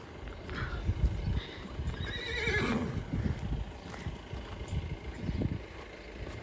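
A mare at a Gujarati horse show whinnies once in a long, wavering call, with hoof clip-clops and shuffling around it; no one speaks.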